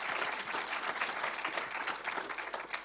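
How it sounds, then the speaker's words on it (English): Audience applause at a data and privacy summit panel discussion: a full room clapping steadily and fairly loudly, with a continuous dense patter that holds level throughout. "Quick preemptive applause for the group again."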